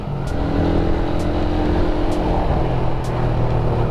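A Suzuki Satria FU motorcycle engine decelerating, a steady loud low rumble with a faint whine and a few brief sharp ticks spread across the stretch, running continuously with no talk.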